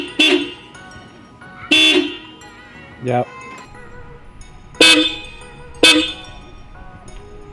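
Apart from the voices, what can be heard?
stock Subaru WRX car horns honking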